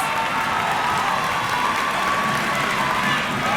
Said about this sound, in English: Let's give them all a well-deserved round of applause